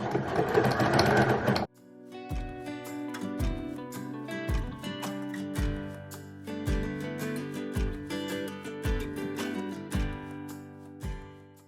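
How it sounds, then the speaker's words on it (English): A home sewing machine runs in bursts, stitching a 5/8-inch seam on a garment top, its rapid mechanical whir pulsing with regular thumps as it starts and stops, close and clear, with no talking. "Put it up face up on the sewing machine"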